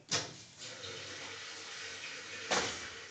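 Water rushing out through an opened valve in a home boiler room, a steady broadband hiss running throughout with louder bursts at the start and again near the end.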